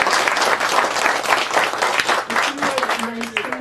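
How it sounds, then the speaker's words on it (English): Audience applause for the authors at a bookstore author event, a dense burst of many hands clapping steadily for several seconds, with a few voices and a faint whistle-like tone near the end. "Let's give our authors a round of applause."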